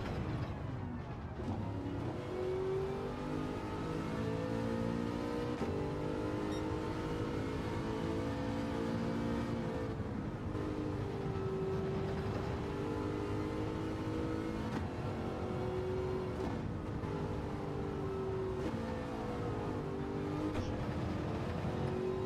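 Porsche race car engine in the Gran Turismo 7 racing game, a loud continuous drone that rises and falls through short-shifted gear changes with steady revving for the whole stretch, no talk over it.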